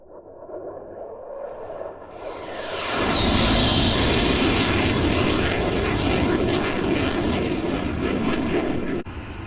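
A Mirage F1 jet in DCS World roars up as its engine spools to a loud, steady whine and rumble that holds close and constant, without any talking.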